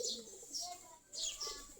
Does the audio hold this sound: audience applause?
no